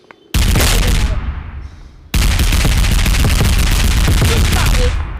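Loud automatic gunfire in a FAUG mobile game team deathmatch: a sustained burst of rapid shots, a brief drop, then another long, dense, close volley filling the clip.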